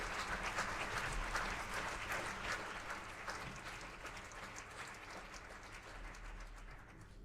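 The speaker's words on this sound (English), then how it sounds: "So please give her a big round of applause." A symposium audience in a hall gives a sustained round of applause, with steady, fairly distant clapping that fades slightly toward the end.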